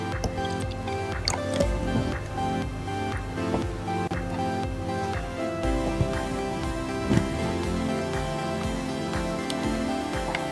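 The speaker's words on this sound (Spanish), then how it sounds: "colocar agua a la capacidad de cada frasco." Water is poured into jars for rescuing a dehydrated orchid, giving a continuous close trickle with scattered drips and light ticking clinks throughout, no speech.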